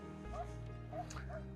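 Dogs at a rescue foundation give short, soft yips and whimpery barks, three quick calls under a low steady background rumble, moderately near.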